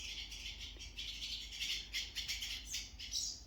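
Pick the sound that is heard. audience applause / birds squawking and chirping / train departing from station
birds squawking and chirping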